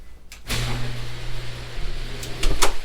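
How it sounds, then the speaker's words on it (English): A garage door opens in a home garage, giving a steady low motor hum with a rumbling rattle between a clunk at the start and another clunk as it stops, moderately loud and close. "We'll open up the garage door"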